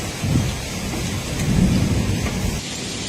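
Thunderstorm over Catania, Italy, with heavy rain pouring steadily and low rumbling thunder rolling beneath it throughout, close and loud, no voices.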